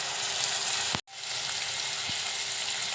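Chopped onion, curry leaves and tomatoes frying in a pan for a cluster bean (gavar) curry, giving a loud steady close sizzle with a brief cut near the start and a soft stir knock.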